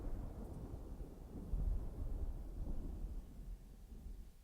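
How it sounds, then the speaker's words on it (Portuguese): Thunder sound-effect variation played on a website: a low, distant rumble rolling steadily for several seconds, faint and alone with no voices. "Só de trovão a gente tem 8 variações."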